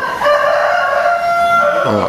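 A rooster crows once, a loud, close call that rises and holds a bright, strained tone before dropping off at the end, with no talking over it.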